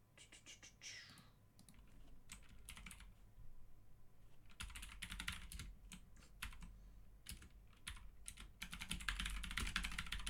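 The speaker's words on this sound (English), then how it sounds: "Apologize for the loud typing noises." Loud computer keyboard typing during a game stream, with rapid clattering keystrokes in irregular bursts, close to the microphone and fairly steady across the stretch.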